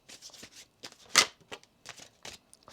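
A deck of tarot cards is riffled and shuffled by hand nearby, with a string of quick papery flutters and one sharper, louder burst in the middle, alone in a quiet room.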